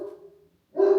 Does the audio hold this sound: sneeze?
no